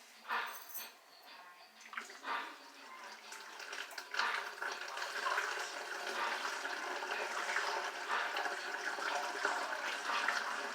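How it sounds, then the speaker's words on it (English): Hot brewed green tea poured in a steady, continuous splashing stream that builds after a brief start and keeps running close up for several seconds, with no talk over it. "we're going to pour this in first while it's hot."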